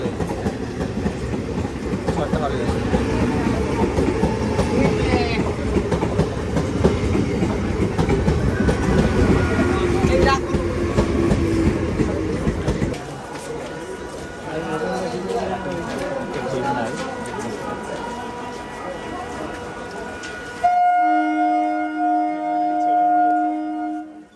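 An Indian local train runs along the tracks with steady rumbling and rhythmic clickety-clack from the carriages, loud and close from onboard; the noise thins partway through and gives way to sustained horn-like tones near the end.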